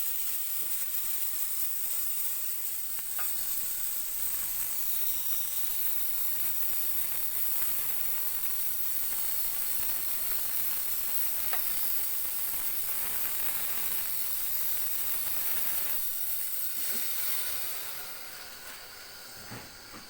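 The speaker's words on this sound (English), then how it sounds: "then steam my milk perfectly" An espresso machine's steam wand steams milk with a continuous bright hiss. It holds steady for most of the time, then eases off near the end, with no talking.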